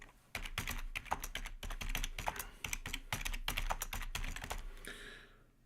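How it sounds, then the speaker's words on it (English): Rapid clattering keystrokes on a computer keyboard run in quick irregular bursts for several seconds, close and clear, with a low steady hum underneath and no talking. "Oh, I'm not typing properly"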